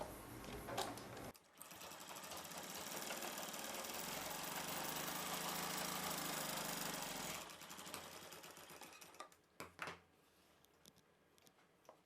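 Sewing machine stitching a blouse lining piece to a puff sleeve piece, a steady close whirring run of about six seconds between short bursts and handling clatter.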